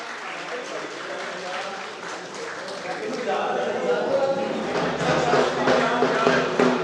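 An outdoor festival audience applauds for a singer, a broad wash of clapping that grows louder and fuller halfway through, with voices mixed in.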